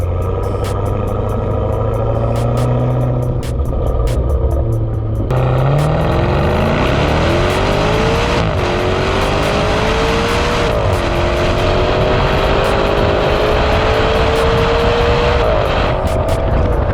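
A used V8 Maserati Quattroporte GTS engine revs hard and loud close by, rising through sustained climbs with a sharp jump in pitch partway, a powerful continuous roar with no talk.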